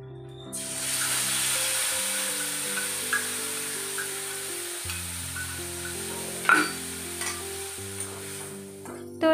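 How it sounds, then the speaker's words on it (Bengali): Dried fish frying in oil in a wok, a steady close sizzle and hiss throughout, with a few sharper pops and stirring scrapes near the end. "তারপরে শুটকিগুলোকে ফ্রাই করে নিব হালকা করে"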